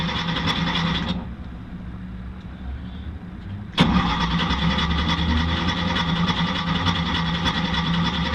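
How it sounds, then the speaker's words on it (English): A race car engine cranking to build oil pressure gives a steady mechanical whirring churn. It cuts out for a few seconds, then resumes abruptly with a sharp onset and runs on evenly to the end. "Cranking for oil pressure"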